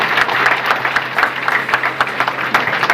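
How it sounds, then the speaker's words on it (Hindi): Audience applause at a school youth parliament debate event, a crowd clapping in a hall with uneven bursts of hand claps, moderately loud and continuous over a faint low hum. "एक बार जोरदार तालियां हो जाए।"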